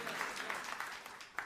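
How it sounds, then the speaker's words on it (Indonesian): A church congregation claps during a sermon, a soft, fairly distant patter of applause with a few sharper claps standing out. "Tepuk tangan yang meriah untuk kemuliaan."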